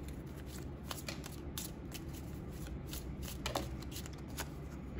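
Gypsy fortune-telling card deck being shuffled by hand, soft, close riffling and snapping of cards in repeated bursts, with no voice.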